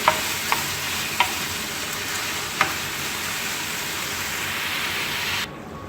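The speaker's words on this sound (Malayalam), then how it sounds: "വെച്ചിരിക്കുന്ന നമ്മുടെ മിൻസ്ഡ് മീറ്റ് ഇട്ട് കൊടുക്കാം. നമുക്കിതിനെ നന്നായിട്ട് ഒന്ന് മിക്സ് ചെയ്യാം." Minced meat for shepherd's pie sizzles loudly and steadily in a frying pan, with several sharp scrapes and taps of a utensil stirring near the start, close and without talking, before the sound drops off abruptly at the end.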